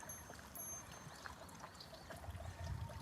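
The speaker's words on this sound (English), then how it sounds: "They do the spring water, and you can come here and get the clear water, and you can drink it." Spring water runs from a tap at a public water source in Japan, a steady trickling pour heard close up over a broad outdoor wash of noise, with no talking.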